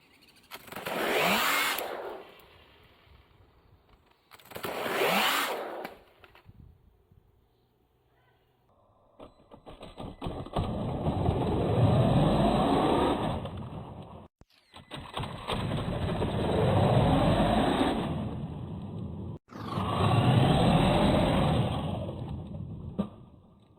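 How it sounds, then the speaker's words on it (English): A small RC hotrod Bedford TJ truck with a whining electric motor makes short bursts, then longer sustained runs with brief gaps, nearby and fairly loud. "take it out for a little bit of a test drive and see how it drives."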